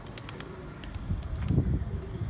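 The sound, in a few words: pigeons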